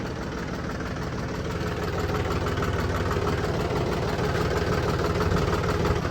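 A farm tractor's engine idles close by, a steady low chugging rumble with constant vibration running unbroken throughout, with no talking.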